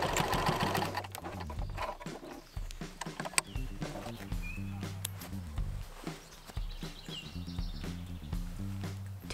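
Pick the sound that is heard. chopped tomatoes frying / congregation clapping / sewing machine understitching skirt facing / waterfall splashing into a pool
sewing machine understitching skirt facing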